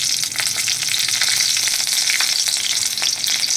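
Green chillies, dried red chillies and panch phoron crackle in hot oil, a loud, close, continuous sizzle with scattered sharp pops and a few stirring scrapes.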